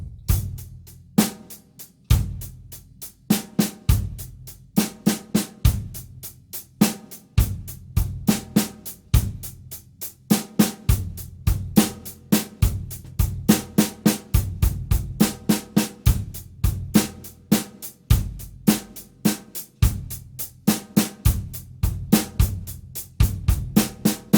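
A drum kit plays a steady rolling 6/8 groove, punchy kick and snare hits shifting in placement across repeated bars, with ringing cymbals.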